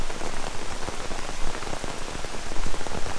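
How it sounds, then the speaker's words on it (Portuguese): Steady rain pours down outdoors while someone shelters under a rain cape, making a dense, even hiss with scattered close drops pattering on the surface throughout. No one speaks. "Tá debaixo de uma capa de chuva, esperando a chuva passar."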